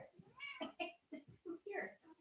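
A pet cat meows repeatedly in short, rising cries, fairly quiet, and a person's voice may be mixed in among them.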